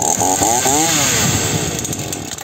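A TITAN TTL759CHN 40cc petrol chainsaw with a 40 cm bar runs up close, its loud buzzing engine note wavering as the revs rise and fall in quick surges.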